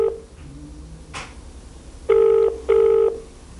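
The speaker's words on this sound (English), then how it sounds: "Seems that the phone's just ringing and ringing on his mobile." A mobile phone rings unanswered through a handset, two sustained electronic ring tones in succession after a few faint tones and clicks, heard over a low background hiss.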